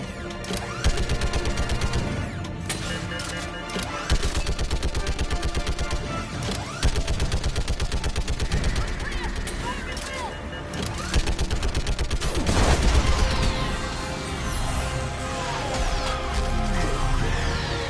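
An orbital strike pounds a Reaper in the Mass Effect 3 video game, loud rapid cannon fire and crashing blasts running nearly continuously, with bursts of heavier impacts layered over a constant battle din.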